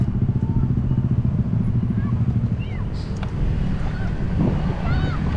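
A trail motorcycle descending in first gear, its engine chugging steadily at low revs, a continuous rumbling drone with wind buffeting the microphone and voices talking over it.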